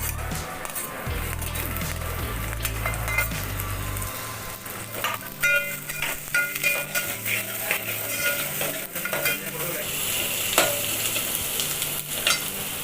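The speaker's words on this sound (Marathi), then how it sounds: "आता मी कढीपत्ता आणि लसूण टाकते. कढीपत्ता, लसूण आणि मिरच्या." Curry leaves, garlic and green chilies sizzling loudly in hot oil in a pan for dal khichdi, with a steady fry hiss broken by spoon scrapes and clinks while stirring.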